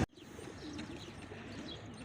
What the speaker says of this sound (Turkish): gördüğünüz gibi güvercinler de kış günü acıkmış karından doyuruyor